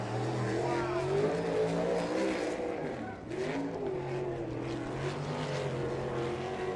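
Non-wing sprint cars, 305 Econo Sprints, racing around a dirt oval, engines roaring loudly with pitch rising and falling through the turns, one car dominant in a sustained drone.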